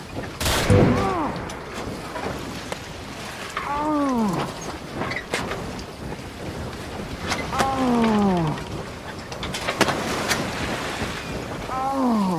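Gunfire from a man shooting his way out in a Shogun episode: sharp, scattered shots crack over sweeping tonal whines and a washing, surf-like background.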